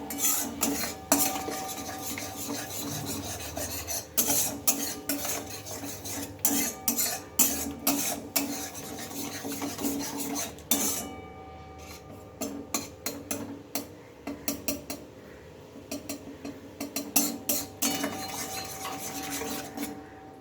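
Spoon scraping and clinking repeatedly against a bowl while mashed potato mix with chaat masala and ground pepper is stirred, close and fairly loud, with steady rhythmic strokes and brief pauses.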